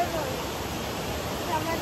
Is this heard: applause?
no